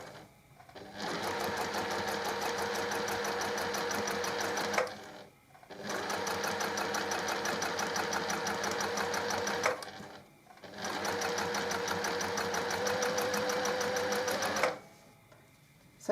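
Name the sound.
sewing machine sewing a zipper onto a pouch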